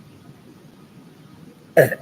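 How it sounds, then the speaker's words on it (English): A single short burp erupts near the end after a low, steady background murmur, loud and close, lasting only a fraction of a second. "Excuse me, I just burped."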